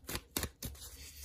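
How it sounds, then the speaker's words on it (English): A deck of tarot cards is shuffled by hand in three brief, soft papery riffles, close and fairly quiet, with no voice over them. "Let's give the cards a good shuffle"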